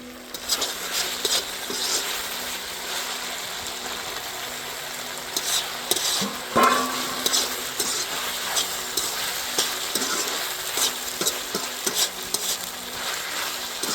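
Tomatoes go into a pan of cooking broad beans and get stirred, giving a steady close sizzle of frying with scraping and clinking strokes of the spoon against the pan.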